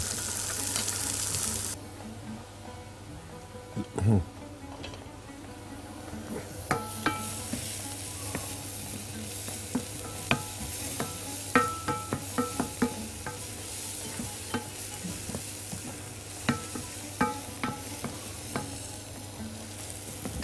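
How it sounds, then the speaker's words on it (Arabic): Chopped onion and garlic fry in olive oil in a pan, a steady soft sizzle broken by frequent sharp scrapes and taps of a spoon stirring, close and clear with no one talking. "وننزل بحبه زيت الزيتون، وبعدين ننزل بالبصل والتوم."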